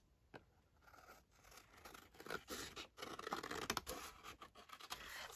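Paper from leftover craft kit ephemera being cut round with scissors, quiet close-up snipping and scratchy rustles in irregular bursts, faint and with no talking.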